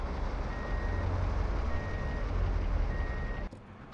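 Dump truck reversing in Truck & Logistics Simulator: steady repeating backup beeps, three evenly spaced tones over a loud low diesel engine drone, cutting off abruptly near the end.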